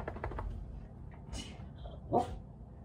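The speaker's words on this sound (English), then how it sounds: "No, that's not good morning. That's a woof." A dog gives a single short woof close by after some quiet muffled vocal sounds and light tapping, with the bark standing out briefly against a faint background.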